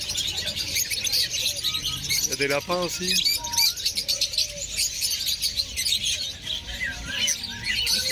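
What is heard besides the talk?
birds chirping at a pet market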